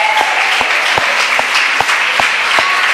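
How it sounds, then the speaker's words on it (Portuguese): A church congregation claps together in a steady, rhythmic beat, close and loud, with the claps falling roughly twice per second and a bright hum running beneath them. "Vamos dar uma salva de palmas ao Senhor."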